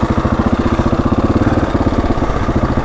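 A Husqvarna 701 motorcycle engine running rough idles close and loud with a steady, lumpy thumping pulse and an uneven, clattery beat throughout, with no talk over it.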